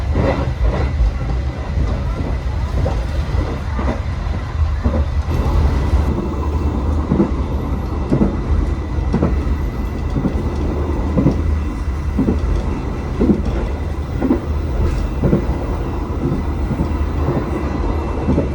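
Inside a passenger train on a Jakarta to Surabaya journey, a steady loud rumble of wheels on rails with regular clicking joints throughout, a muffled announcement faintly underneath.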